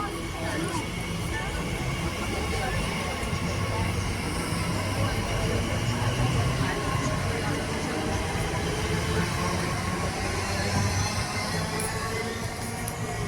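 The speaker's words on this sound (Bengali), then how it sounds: "এই যে ট্রেনটা এসছে দেখাচ্ছি তোমাদের" A train pulls into Ilford station in London, a loud, steady rumble of wheels and carriages that holds for the whole stretch without fading.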